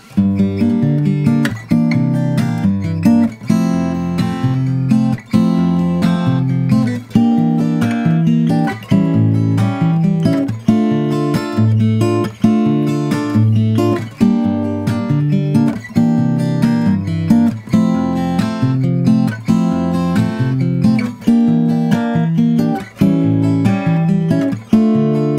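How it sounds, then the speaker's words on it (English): Guitar strumming the B section chords of a song in a steady rhythm, loud and close with no talking. "So the B section of tempo chords sound like this."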